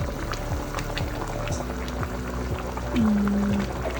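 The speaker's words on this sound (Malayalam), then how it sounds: "ഇത് നന്നായിട്ട് തിളച്ച് തുടങ്ങിയിട്ടുണ്ടേ." Chicken majboos boils in a covered pot, giving off a steady, dense bubbling and rumbling that stays fairly loud throughout, with a low, sustained hum rising near the end.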